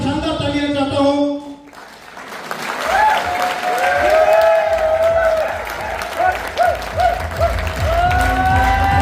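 An indoor audience at a health awareness and agriculture product event bursts into sustained, loud applause that fills most of the stretch, following a brief spoken introduction over background music at the start.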